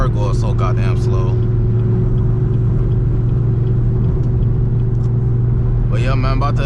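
Chevrolet Camaro ZL1 on an E85 setup drives steadily, its engine a continuous low droning rumble close by, with someone talking over it at the start and again near the end.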